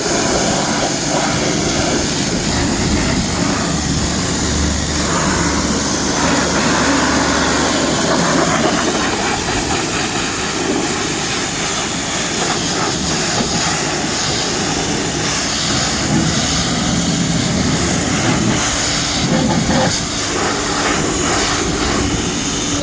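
A three-phase PROFTER 7.5 kW 280 bar pressure washer runs nonstop with a loud, dense roaring motor and pump drone close by, steady for the whole stretch.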